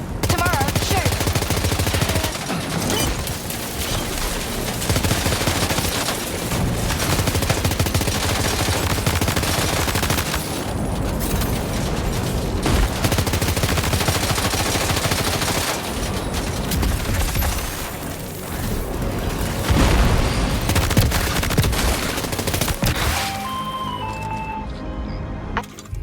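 Long stretches of dense, heavy gunfire in Death Stranding 2, with sustained automatic bursts and sharp cracks layered over rumbling combat noise and a few brief lulls, ending in a quieter tail with faint tonal beeps.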